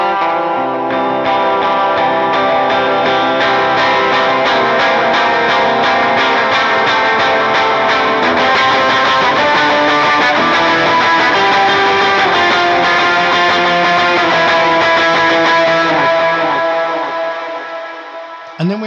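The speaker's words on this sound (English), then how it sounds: "we're going to kick on our lead tone, and then we're going to be in an octave run" Electric guitar with a lead tone plays an octave run and chord strums, loud and steady with effects, sustained notes building for about seventeen seconds before fading.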